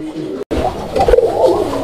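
A pigeon coos in a short, warbling run of soft notes close by, broken by a brief gap of silence near the start.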